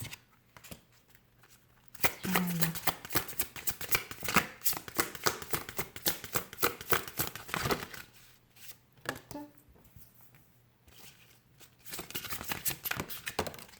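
Oracle cards being shuffled by hand give bursts of rapid flicking and riffling, close and crisp, with short quiet pauses between the runs of shuffling.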